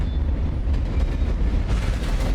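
In Alan Wake Remastered, a train rumbles past overhead with a steady, heavy low roar and faint rhythmic rail clatter, loud and continuous.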